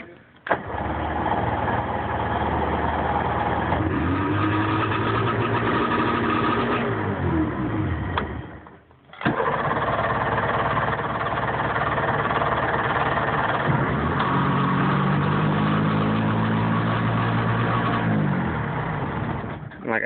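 Two engines of a 1995 Sea-Doo Speedster jet boat crank and catch, then settle into a steady loud rumbling idle close by, with a brief pause before the second start.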